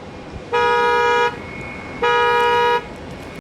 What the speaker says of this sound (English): everyone excuse the car alarm that is taking place behind me